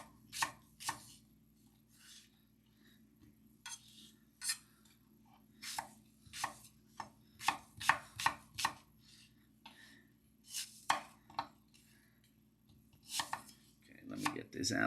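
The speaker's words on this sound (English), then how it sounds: "we're gonna cut these in little cubes. I'm putting the skin on here because I'm just gonna go with a little bit of texture" A knife chopping skin-on apples into small cubes on a board, a run of crisp, uneven taps that cluster quickly in the middle, close and clear over a quiet low hum.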